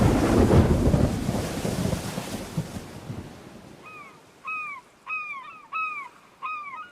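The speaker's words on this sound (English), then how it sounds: "there's a storm at sea" A storm at sea with a dense roar of thunder and rain that fades over a few seconds, followed by a series of loud, repeated crow-like caws near the end.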